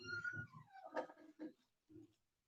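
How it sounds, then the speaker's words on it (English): A big slobbery dog whimpers nearby in a few short, high, whining yelps and cries that trail off into quiet. "let that big slobbery dog in the house"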